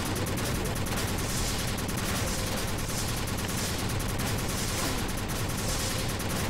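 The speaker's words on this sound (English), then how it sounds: "Watch where you're shooting there, Tex." Gunfire from the action video game Kickass Commando, a dense continuous barrage of rapid shots and explosions without a pause, steady and loud throughout.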